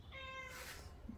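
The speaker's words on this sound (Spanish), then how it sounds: "El gato." A pet cat meows a single drawn-out, wavering call indoors, close and fairly clear over faint room noise, with no one talking.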